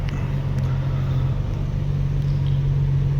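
A BMW E36 M3 coupe's engine drones steadily from inside the cabin while driving, a loud, constant low rumble with a strong steady hum and no breaks.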